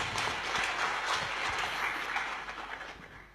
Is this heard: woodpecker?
no